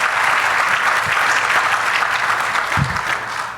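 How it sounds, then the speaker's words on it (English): An audience at a college gala claps steadily, a dense wash of many hands that is loud and sustained throughout, with a few low thumps mixed in. "You can applaud to that"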